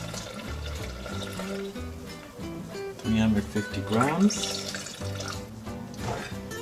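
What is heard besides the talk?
warm water poured into bowl for sourdough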